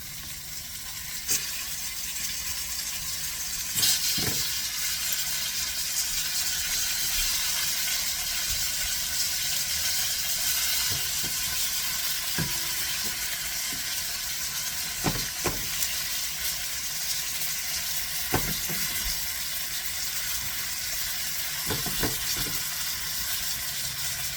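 Beef neck meat returned to a hot pan sizzles and fries steadily, a continuous close hiss with occasional stirring clicks and pops, no talking.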